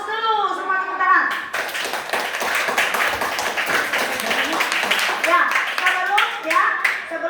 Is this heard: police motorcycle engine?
no